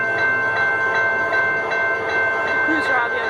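Trains pass on the S Line at Orange Heights, Florida, with a loud steady rumble and rhythmic wheel clatter, a sustained horn tone running throughout, and people talking underneath.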